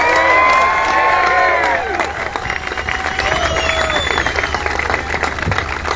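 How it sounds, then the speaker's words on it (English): Crowd at a Freedom Truckers gathering in Cuba, Missouri, applauding and cheering for a family, a loud burst of clapping and shouts with voices mixed through the noise. "So please give that family a round of applause."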